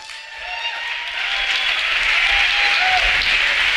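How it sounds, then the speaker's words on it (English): An audience at a talk applauds warmly to welcome a speaker, a close, continuous patter of many hands that builds slightly and stays steady to the end, with no voices over it. "give us a warm round of applause for Benny Wills."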